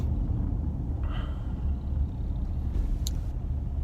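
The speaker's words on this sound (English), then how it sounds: "as I'm driving to work" A car driving along a road on the way to work, heard from inside as a steady, continuous low rumble with a faint whine and no talk.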